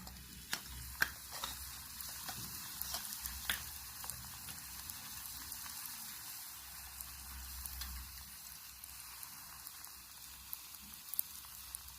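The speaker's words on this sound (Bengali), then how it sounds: "একে একে সবগুলো ভাজা হয়ে যাচ্ছে।" Luchi puris deep-frying in hot oil, a faint steady crackle and fine sizzle with scattered soft pops, continuous and fairly quiet.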